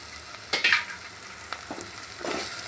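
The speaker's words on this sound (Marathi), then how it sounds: "यामध्ये हे मसाला लावून ठेवलेले जे सांडगे होते ते सांडगे यामध्ये टाकून फ्राय करतो" Masala-coated soya chunks (sandge) tossed into a hot pan for soya pulao, giving soft sizzling with a few scraping stirs and clinks, close and fairly quiet, with no talk.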